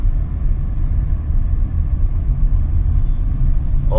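Interior rumble of a new automatic car on a test drive, a steady low road and engine drone heard from inside the cabin, with no talking.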